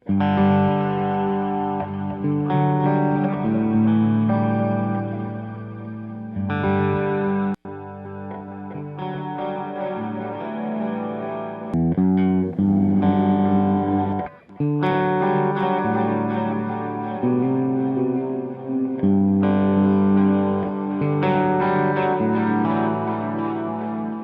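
Distorted electric guitar playing sustained chords through a Valhalla Supermassive delay plugin, a spacious, echoing effect trailing each phrase, loud and continuous with a couple of brief breaks.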